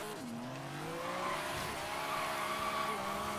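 Tires squeal as a car drifts in Forza Horizon 3, a long continuous screech with shifting pitch over steady engine roar, loud and close throughout.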